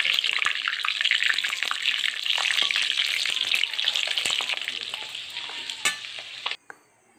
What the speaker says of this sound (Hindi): तेल अच्छे से गर्म हो जाए तो मछली को फ्राई करेंगे।